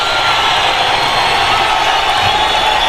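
A boxing crowd at a WBC title fight cheers and roars during an exchange, a dense, loud, continuous wall of voices and whoops with faint commentary underneath.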